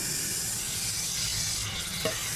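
Thinly sliced beef stir-frying in a pan, a steady loud sizzle with a hissing wash and a brief scrape of stirring near the end, no talk.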